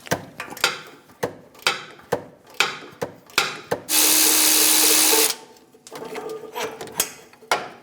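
A power tool works an exhaust manifold bolt on a 2011-2018 Ram 1500 5.7L V8, with a series of sharp, evenly spaced clacks, then a steady loud whir lasting over a second, followed by more clacks.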